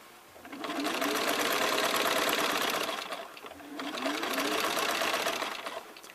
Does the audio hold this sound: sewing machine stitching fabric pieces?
yes